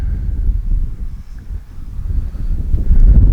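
Wind gusting across an RC model flying field, heard as a deep, uneven rumble of buffeting against the microphone that swells and dips in gusts, with no other clear sounds.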